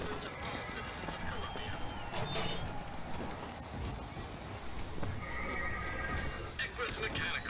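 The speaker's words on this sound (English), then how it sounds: "Equus Mechanical, the automatic stallion, the horse of the future, today!" A mechanical horse in the video game Bioshock Infinite whinnies sharply amid clopping hooves and busy background noise, with a second high neigh later; moderately distant.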